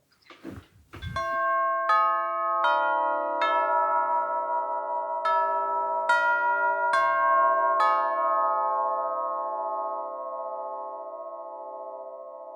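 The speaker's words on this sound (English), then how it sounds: "8-note melody, Westminster peal, played on a vintage long bell door chime" A vintage door chime rings out an eight-note Westminster melody, each long bell tone struck in turn and left to ring and fade slowly, clear and close.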